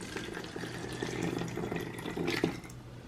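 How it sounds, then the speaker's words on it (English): Hot water is poured through a funnel into a spray bottle holding baking soda for a homemade shower cleaner, a steady close gurgling pour that rises slightly toward the end. "and then add your hot water."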